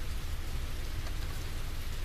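Heavy, steady rain pouring down, a dense unbroken hiss with low rumbling underneath and no voices.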